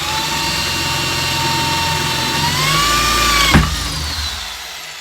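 A Parkside PSBM 750 electric drill runs steadily without hammer action, its high whine rising slightly in pitch, then easing off with a brief click near the end as the motor slows.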